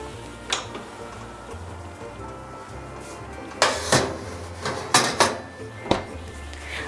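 A tray of soy sauce chicken goes into a 200 °C oven: a few sharp metallic clanks and scrapes of the tray and rack, close and moderately loud over a low background hum, without talking.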